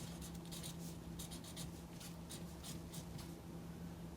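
A marker writes across a classroom chart in short scratchy strokes, repeated in quick bursts over a low steady hum, close and soft, no talking.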